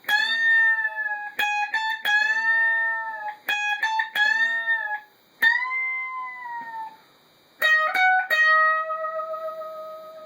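Distorted electric guitar plays a short solo of sustained bent notes and quick picked phrases, separated by brief pauses.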